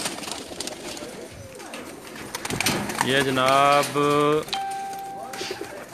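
Pigeons cooing in close, soft repeated throaty calls inside a rooftop loft, with someone speaking briefly before them.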